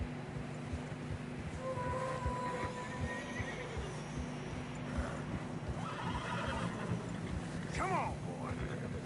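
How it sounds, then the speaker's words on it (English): Horses in fresh snow in the video game Red Dead Redemption whinny and neigh loudly over the muffled plod of hooves, with a low, busy background rumble throughout. "Horses are struggling."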